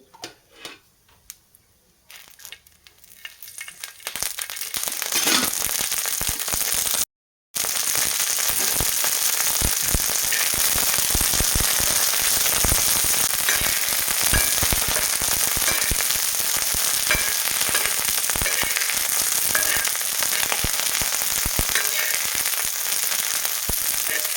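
Green chilies and garlic fry in oil, starting from near silence with a few light taps and then rising into a loud, sustained crackling sizzle that holds steady after a short break, with no talk over it.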